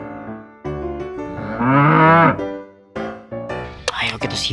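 A cow moo sounds near a toy cow, a long drawn-out lowing in the middle, mixed with a voice speaking before and after.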